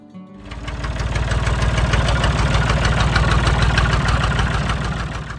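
An old Massey Ferguson 135 tractor engine idles steadily and close, a loud low rhythmic diesel chug with a slight knock that starts abruptly and holds an even, unchanging beat.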